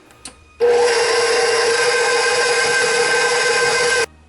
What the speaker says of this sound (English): And I'm going to beat that till fluffy